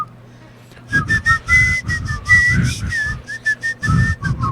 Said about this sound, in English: I want to do the Mexican whistle.